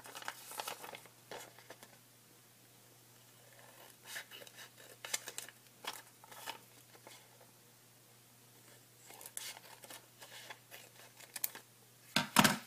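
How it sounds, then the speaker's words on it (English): Crisp scissors cutting paper along creases into strips and rustling, a few short bursts of snipping spread across the clip, close and fairly quiet, with a louder crinkle at the end. "cut at each of those creases to get your 3 pieces of paper"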